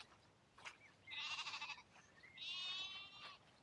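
Two drawn-out sheep bleats on a rainy hillside along Hadrian's Wall, each wavering call lasting under a second and heard fairly close over a steady wash of rain.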